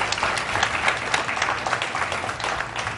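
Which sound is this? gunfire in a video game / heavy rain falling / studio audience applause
studio audience applause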